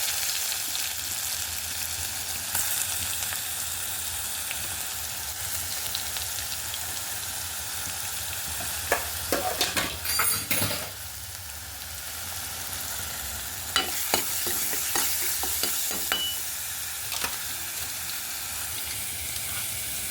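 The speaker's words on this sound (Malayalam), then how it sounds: "കടുക് ഉലുവായിട്ട് ഇട്ടിരിക്കുന്നത്." Mustard seeds and fenugreek tempering for a curry make a steady rain-like sizzle in oil, broken by bursts of louder crackling and spattering pops and the odd stir, with no one speaking.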